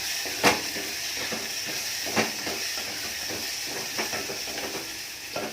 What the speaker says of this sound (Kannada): ಓಕೆ, ಈ ಥರ ಕುದಿತಾ ಇದೆ ನೋಡಿ, ಇಷ್ಟು ಕುದಿತಾ ಇದೆ